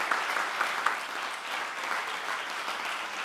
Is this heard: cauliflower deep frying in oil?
no